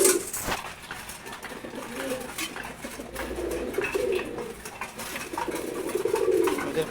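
Several racer pigeons close by in a loft give low, throaty coos over and over, overlapping one another with faint shuffling, clicks and feather rustle. There is no speech.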